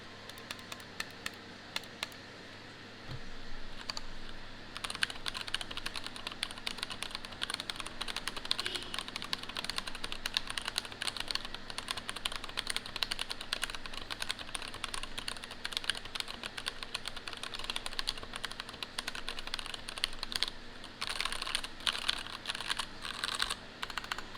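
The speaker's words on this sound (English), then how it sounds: "here's a sound test of the keyboard, absolutely stock, no mods" A stock custom mechanical keyboard with no modifications being typed on continuously, dense rapid clacks of keystrokes close up, after a brief quieter start, with no talking.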